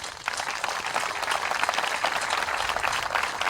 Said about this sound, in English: please join me for a round of applause for the families